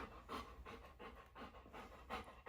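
A dog panting steadily and close by, quick rhythmic huffs in a continuous run of breaths with no talking over it.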